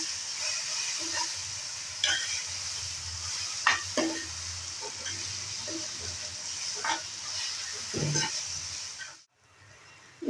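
Ambadi bhaji (amaranth leaves) cooks in a steel pan over low heat, giving a steady close hiss and sizzle with scattered stirring scrapes and light clinks, then a brief drop to near silence near the end.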